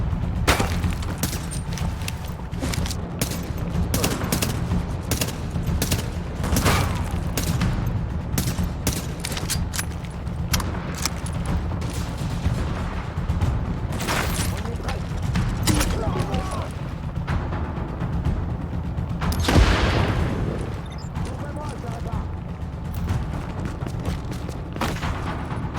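Repeated gunfire bursts and booms in the video game Tom Clancy's The Division, a dense loud firefight running throughout with voices shouting over it.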